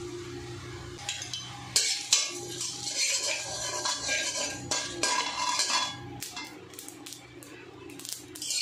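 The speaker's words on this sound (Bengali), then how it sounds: "এগুলো আমি শুকনো খোলায় টেলে গুঁড়ো করে নেব।" Dried red chillies, mustard seeds, cumin and panch phoron dry-roasted without oil in a kadai, with a steady scraping stir and clinks of a metal spatula against the pan, close and continuous with no talk.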